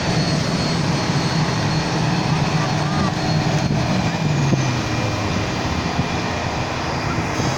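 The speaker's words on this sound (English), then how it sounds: "once the propeller rotates, the air's being forced forwards rather than backwards, and to stop the aircraft" Propeller aircraft reversing propeller thrust at the 2019 Edinburgh, South Australia air show: a steady, loud engine roar and droning hum with slow pitch shifts, heard from a distance under a spectator's talk.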